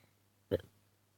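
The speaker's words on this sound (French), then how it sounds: "Pardon, j'ai roté." A single short, close burp from a woman, sitting alone against a quiet background.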